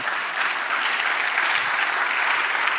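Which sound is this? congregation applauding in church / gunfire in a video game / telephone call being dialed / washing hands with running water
congregation applauding in church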